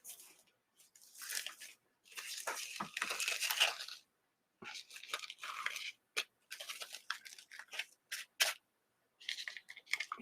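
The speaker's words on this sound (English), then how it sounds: "These are terrible scissors." Scissors snipping and crunching through craft material while an Easter bunny wreath is assembled, in repeated short bursts of cutting with brief pauses between, close and clear.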